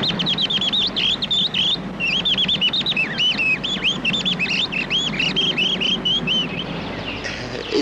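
A man imitates quarrelling birds with his voice, producing a rapid, continuous run of chirps and whistled tweets, close and fairly loud over a low background hum.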